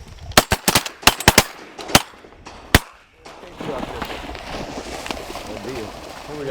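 Hunters fire at birds in a quick volley of about eight loud, close gunshots over three seconds, then voices talk over a low, steady rumble.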